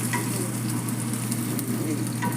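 Curry-leaf tempering sizzles loudly and steadily in a hot pan, a dense unbroken crackle of frying oil that holds at a constant level with no voices.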